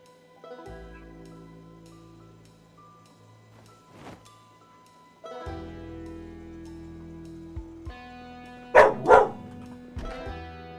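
A dog barking in the Project Zomboid video game: a couple of sharp barks near the end over sustained game music and tones, fairly close and clear.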